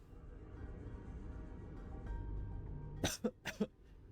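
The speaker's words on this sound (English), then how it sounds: "Coughed on my lung there." A person coughing close by, in a sharp burst of three or four rough coughs at the end after a quiet, hissy stretch.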